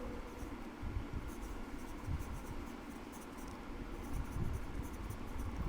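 Pen scratching answers onto a paper worksheet, a faint, continuous scribbling with small irregular strokes over quiet background hiss.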